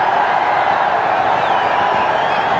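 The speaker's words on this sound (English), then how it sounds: "appreciated by this crowd" A large cricket crowd at a one-day international between Pakistan and South Africa, a steady wash of applause and crowd noise greeting a batsman's half-century, dense and continuous at a distance.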